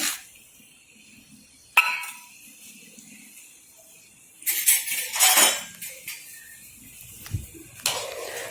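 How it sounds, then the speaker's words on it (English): Split urad dal tipped into properly hot oil already holding split red chili in a cooking pan, giving a short clink followed by two bright sizzling bursts, the second fading into a steady low crackle. "Add the split urad dal."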